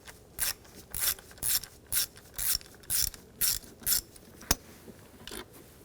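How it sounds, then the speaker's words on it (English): A ratchet on a 10mm socket works a bolt loose on a 2007-2013 BMW X5 3.0L inline-six, nine or so bursts of close, crisp clicking in steady rhythm, then a single sharp knock. "Using a 10mm socket, take this bolt out."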